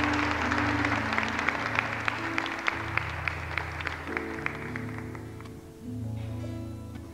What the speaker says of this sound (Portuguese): Nós podemos aplaudir a palavra de Deus.